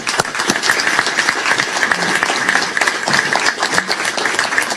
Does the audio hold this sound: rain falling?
no